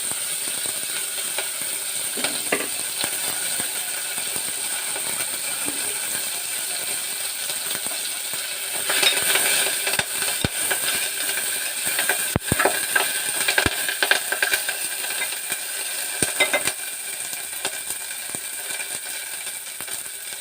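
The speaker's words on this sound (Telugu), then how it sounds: "అల్లం చితక్ కొట్టాను ఇది ఆయిల్లో వేయించేసుకుందాం" Crushed ginger and moringa leaves frying in oil make a steady crackling sizzle, joined by busy clicking, rattling stirring noises that grow denser midway, with no speech.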